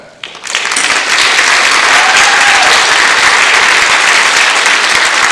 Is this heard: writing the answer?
no